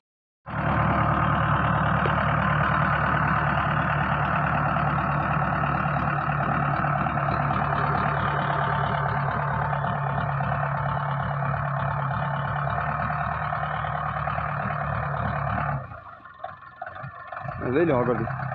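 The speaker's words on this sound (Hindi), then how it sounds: "तो देखा दोस्तों किस तरह से निकली रेत में से ये गाड़ी" A Mahindra Marshal's engine strains steadily to pull the vehicle out of deep sand, loud and close for about fifteen seconds before it abruptly drops away to quieter sounds.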